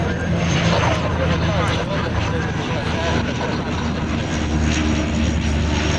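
A propeller airplane at an air show in Québec drones loudly and steadily throughout, with people talking over the constant engine noise.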